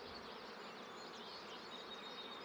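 Honeybees swarm and buzz steadily around a beehive outdoors in early spring, a dense continuous drone of many wings close by, with no voices.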